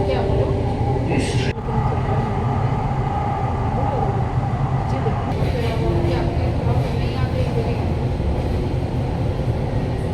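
A Delhi Metro train running toward Noida Sector 59, a steady loud rumble and rolling drone of the carriage throughout, with a station announcement voice heard over the noise.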